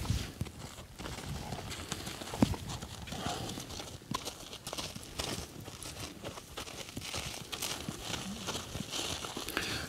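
A ridden horse's hooves clip-clop at a walk through a training session, a steady uneven patter of soft hoofbeats mixed with faint rustling, fairly quiet and steady throughout.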